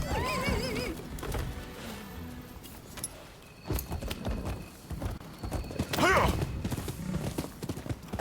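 Hooves clip-clop in a quick galloping rhythm with a horse whinnying, mixed with other game sounds and a voice speaking over it.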